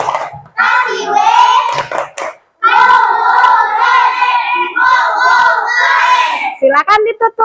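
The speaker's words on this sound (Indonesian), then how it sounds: "Kita kasih tepuk tangan" Children clap their hands in bursts of rhythmic clapping, close and loud, with a short pause partway through. Young voices chant and shout along with it.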